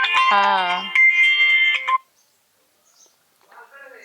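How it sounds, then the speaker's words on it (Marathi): A mobile phone rings with a bright melodic ringtone for about two seconds, loud and close, then cuts off into near silence, with only a faint sound at the end. "आला फोन"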